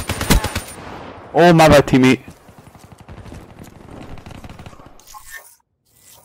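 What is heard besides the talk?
gunfire in the video game Call of Duty Black Ops 3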